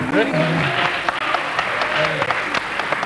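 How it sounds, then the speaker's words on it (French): Part of a television studio audience claps steadily at a moderate volume, while voices talk over the applause. "Il y a une partie du public qui applaudit"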